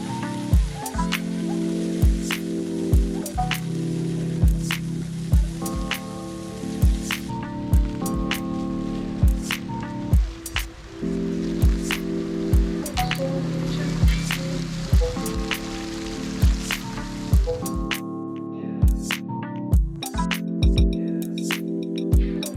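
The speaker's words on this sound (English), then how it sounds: "In the evening, we went to watch the water show of the multimedia fountain," Multimedia fountain water show at night in Toruń, Poland, with music, a steady rushing spray of jets under repeating musical phrases and sharp accents, continuous and moderately loud from a middle distance.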